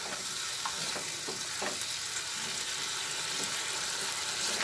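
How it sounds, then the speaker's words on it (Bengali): Fennel, ginger and whole spices frying in a pan with a little water, giving a steady dense sizzle with occasional stirring scrapes, close and continuous. "পুরো মশলাটাই ভালো করে একটু ভেজে নিচ্ছি।"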